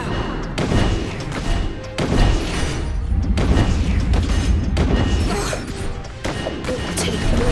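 Soldiers in The DioField Chronicle fire a volley, giving a sustained series of loud booming, crashing shots that sound close and dense, with brief pauses and some voices mixed in.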